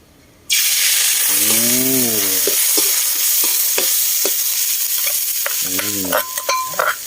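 Beef with holy basil is stir-fried outdoors in the evening, giving a loud, continuous sizzle with repeated spatula scrapes and clanks. A brief hum-like tonal sound rises twice over it. No one speaks.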